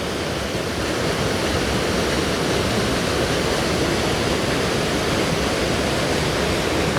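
Choke Creek Falls, a waterfall in Pinchot State Forest, Pennsylvania, pours with a steady, dense roar of rushing water that stays constant and fills the whole stretch, with no voices.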